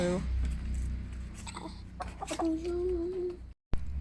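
Hens cluck and murmur close by, with a voice talking over them and a brief sustained squawk near the end.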